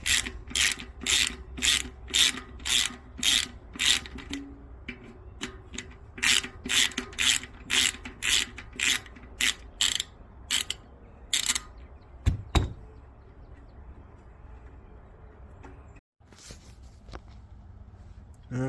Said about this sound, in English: So we'll take and back these off here, take them all the way out, and then put the new rotor on.